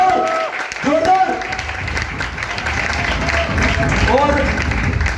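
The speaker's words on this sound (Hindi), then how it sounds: "एक बार मैं चाहूंगा जोरदार ताली उनसे, महेश सामरे जी और धर्मेंद्र सर के लिए।" An audience claps loudly in a hall, a dense burst of applause that carries on steadily throughout, with a voice briefly audible over it.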